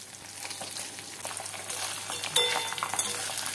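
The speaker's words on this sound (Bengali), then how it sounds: "একটু হালকা করে আমি ভেজে নেব" Pieces of hilsa fish fry lightly in oil in a pan for mustard hilsa, giving a soft, steady sizzle with crackling pops that grow a little louder toward the end.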